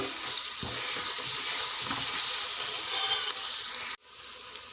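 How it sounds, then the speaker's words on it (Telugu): Ginger garlic paste frying in a pan for a chicken curry, a loud, steady sizzle and hiss with faint stirring, broken by a sudden drop near the end before the sizzle returns. "ఇప్పుడు రెండు స్పూన్ల అల్లం వెల్లిపాయ వేయాలండి రెండు కిలోల చికెన్ కదా అల్లం వెల్లిపాయ పచ్చి వాసన వేయదాకా వేగనివ్వాలి"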